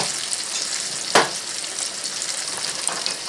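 Green tomatoes frying in a pan give a steady broadband sizzle, with one brief sharper burst as a batch goes in, heard alone without talk.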